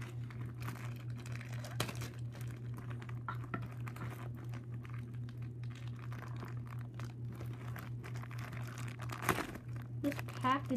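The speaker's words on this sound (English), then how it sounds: "This packaging is like, I don't get it. They just put so much plastic." Plastic packaging for a God Valkyrie.6V.Rb crinkles and crackles in short bursts as it is handled during an unboxing, with occasional sharper tearing sounds over a steady low hum.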